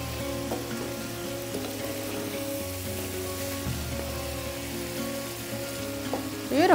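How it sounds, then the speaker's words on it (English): Lamb sizzles and crackles in hot oil in a pot, browning in a dense steady frying hiss close by, with occasional stirring scrapes. "the oils are frying the meat now"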